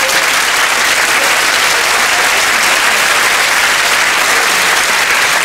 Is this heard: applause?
yes